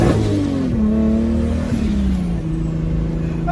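A car launches hard with its engine revving loudly up close. The engine note shifts steadily and keeps going for the whole stretch.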